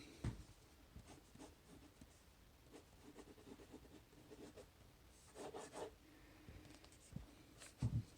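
A Kaweco Liliput copper ballpoint pen writing on paper, quiet scratchy strokes in short bursts with brief pauses, close and faint with no talking.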